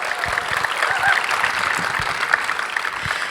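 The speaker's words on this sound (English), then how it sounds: "Let's give them a round of applause." Festival audience applauding volunteers and sponsors at SBIFF 2022, a dense close wash of many hands clapping at a steady level, with no voices over it.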